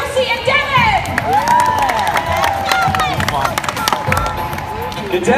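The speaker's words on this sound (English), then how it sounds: "Let's get a round of applause for Josie and Devin." A crowd at a beach party contest event claps and cheers loudly and continuously, with shouting voices and lively hubbub throughout.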